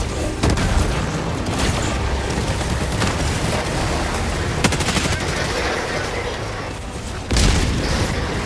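A napalm bomb detonates in Helldivers 2, heard as a long, loud roar of blasts mixed with rapid gunfire, with a heavy boom near the end and faint voices in the background.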